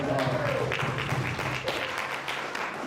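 A concert crowd applauds for the band's bassist, a dense clapping wash under a voice and some tonal murmur, fairly loud and continuous throughout.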